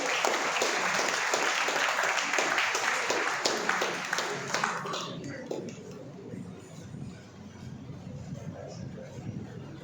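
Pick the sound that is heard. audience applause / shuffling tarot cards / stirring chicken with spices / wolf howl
audience applause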